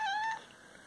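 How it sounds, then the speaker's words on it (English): A single short meow from a cat, high and slightly plaintive, followed by quiet. "like, a sad meow, like, oh, poor me, I need food."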